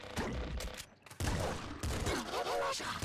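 Plasma gun fire from the video game Nuclear Throne, a dense rush of layered synthetic blasts and bursts that fills most of the clip, with a brief dip near the one-second mark.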